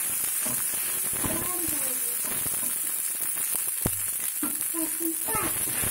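Food frying in a pan for toddler food made with idli pieces, a constant crackling sizzle with occasional stirring taps, while someone talks over it.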